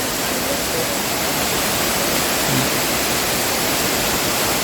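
A steady, dense rush of falling water from Sawan Noi waterfall in Mae Sariang fills the clip evenly, loud and continuous with no voices.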